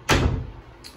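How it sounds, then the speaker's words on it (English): A Jeld-Wen prehung interior door in an off-grid cabin swings shut with one solid thud that rings out and fades, followed by a faint short click near the end. "But let me shut the door here."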